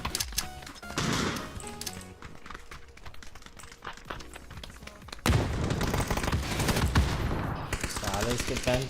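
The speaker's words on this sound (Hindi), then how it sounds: "साले इसके पैन पे आधी गोलियां लग रही हैं।" Gunfire in the PUBG video game, with bullets striking a frying pan: rapid automatic bursts and metallic impacts, loud and dense, a break near the middle and then a sharp heavier volley, with keyboard tapping underneath.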